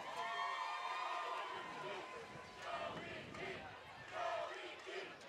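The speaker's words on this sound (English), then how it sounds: "The crowd, the Red Sea is yelling Joey G." A home crowd at a high school football game between Holliston and Medway yells and roars in a sustained swell near the goal line, broad distant cheering with a commentator talking over it.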